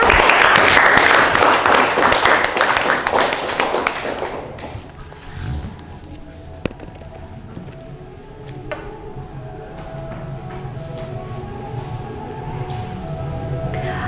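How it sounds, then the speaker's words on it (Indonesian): Students in an informatics class clap for a classmate who has just presented. The applause is brisk and close for about four seconds, then stops and leaves quiet room tone. "tepuk tangan untuk teman kita"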